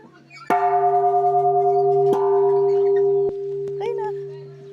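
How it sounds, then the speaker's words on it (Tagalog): A wish bell in Seoul, Korea, struck loudly up close about three times. Each strike gives a sustained metallic ring that decays slowly, with faint background voices. "Tapos ito, papatunog mo daw yung bell."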